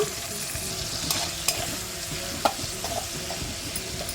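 Tomato frying in a little oil in a tempering of asafoetida, mustard seeds, cumin, green chilli and curry leaves for navane bisibelebath, a steady close sizzle broken by a few sharp spoon clicks against the pan, no voices.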